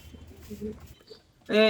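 Pigeons coo softly in a pigeon shop, with low murmuring calls early on and a louder burst of sound at the end.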